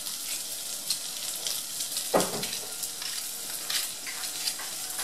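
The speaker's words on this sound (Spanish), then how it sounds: "También esto se puede freír, así quedan crocantico y rico" Vegetables frying in oil in a pan crackle with a dense, close sizzle, and one sharp stir or scrape breaks through midway. No one speaks.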